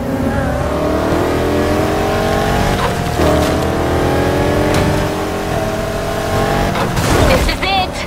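Race car engines roar continuously in Need for Speed Heat, steady loud harmonic drone with rising revs and a couple of gear-shift dips, ending with a brief tire squeal or burst near the end; no talking.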